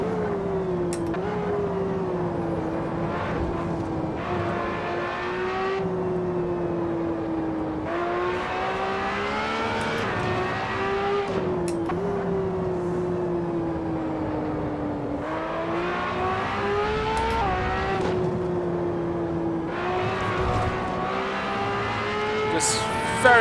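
LaFerrari driven at Spa-Francorchamps in the racing game Assetto Corsa, its engine note climbing and dropping through repeated gear shifts during a long acceleration, loud and continuous.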